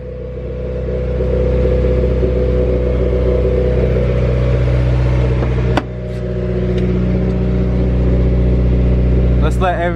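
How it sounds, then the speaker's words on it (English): Honda Integra engine fitted with a Toda V2 header and test pipe, idling loud and rumbly then held at higher revs with a steady drone and a brief dip midway, close by. "and then I'm gonna give it some revs."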